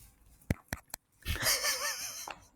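A single sneeze bursts out after a few short sharp breaths, a quick nasal explosion trailing into a brief wheezy exhale, close and fairly quiet.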